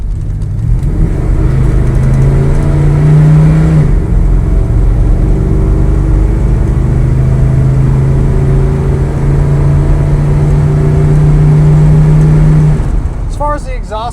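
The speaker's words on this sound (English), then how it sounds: "Let you hear that exhaust." A 1972 Chevrolet C10 pickup with a 350 V8, automatic transmission, headers and full-length dual exhaust revs up, then holds a steady loud rumble for several seconds before easing off near the end.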